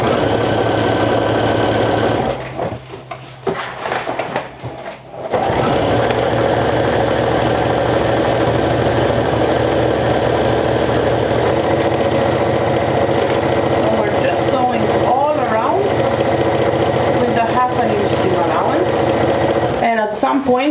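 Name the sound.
sewing machine stitching a vintage jumper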